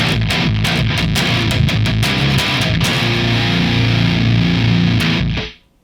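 Heavily distorted electric guitar tuned down to Drop A on heavy-gauge strings, chugging low riffs with sharp palm-muted attacks, then a sustained ringing chord that cuts off abruptly near the end; loud and continuous, with no voices.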